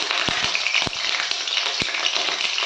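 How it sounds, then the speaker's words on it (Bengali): Ginger paste hits hot oil in a pan with whole cumin, a dried red chilli and a torn bay leaf, giving a steady close sizzle broken by a few soft taps, with no talking. "এবার এর মধ্যে আমি 1 চামচ আদা বাটা দিচ্ছি"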